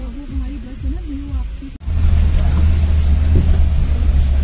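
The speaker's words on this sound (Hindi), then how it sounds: "ये रोड जम गए हैं और ये गाड़ियाँ चलाना इतना मुश्किल हो गया कि गाड़ी स्लिप कर रही है।" Vehicles crawl through a traffic jam on a frozen, icy road in snowy Solang Valley near Manali. A voice speaks briefly, then a loud, steady low engine rumble fills the rest, close by.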